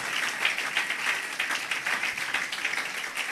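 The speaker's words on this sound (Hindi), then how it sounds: "तो ज़ोरदार तालियां बजाएंगे इनके लिए।" A church congregation at a Christmas service claps for a visiting pastor and his family, moderately loud, continuous applause with a slight swell partway through and no speech over it.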